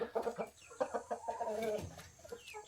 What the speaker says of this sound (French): nous avons le coq et la poule Sussex